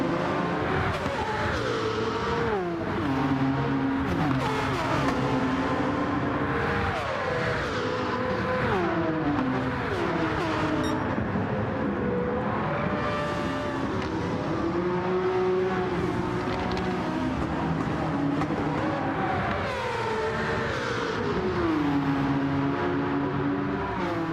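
Group C race cars in Gran Turismo 7 at Monza, including Mazda 787Bs, Porsche 962s, a Jaguar and a Sauber C9, roar continuously, their engines revving up and down through gear changes as they race in a dense pack.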